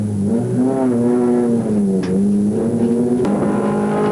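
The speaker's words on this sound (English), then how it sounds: "Well, these cars really go fast." Mitsubishi Mirage Cup race car engine at Oran Park in 1999, heard from inside the car as a loud, close, sustained whine that rises and falls with the throttle and shifts pitch sharply near the end.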